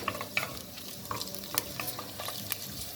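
Cubed meat sautéing and being stirred in a pan over a raised flame, with steady soft sizzling broken by frequent sharp scrapes and clicks of a utensil.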